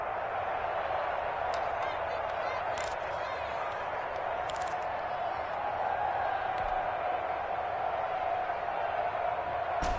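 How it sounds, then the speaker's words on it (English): Stadium crowd noise in a PS4 American football video game, a steady broad roar swelling through the stands with scattered claps and cheers, running under a commentator's voice throughout. "the crowd getting into it as we come up on a big 3rd down"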